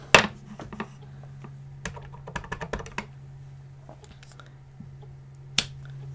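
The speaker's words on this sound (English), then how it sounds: "And then I'm going to stamp the butterfly in Calypso Coral." A rubber stamp with a butterfly design, inked in coral, is pressed onto scrap paper in a crafting session. Crisp taps and clicks come in a scattered cluster, with a louder press near the end.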